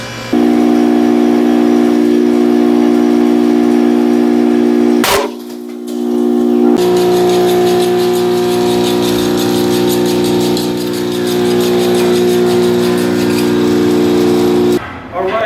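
A concrete test cylinder cracks under load in a compression testing machine. A loud, steady mechanical drone with tonal hum is broken by a sharp crack about a third of the way in, and another abrupt burst comes near the end.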